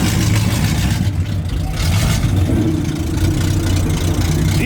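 At an outdoor car meet, a Chevrolet Monte Carlo SS engine idles close by, a loud, deep rumbling burble that stays steady with slight lopey pulses throughout.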